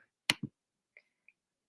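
A computer mouse clicks: a sharp near double click, then a few faint scattered clicks spaced over almost two seconds in an otherwise quiet room.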